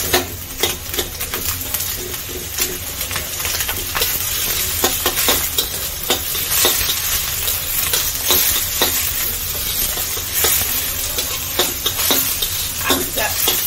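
Ingredients for Chinese noodles fry loudly in a pan, a dense steady sizzle broken by frequent sharp clicks and scrapes of a spatula against the metal.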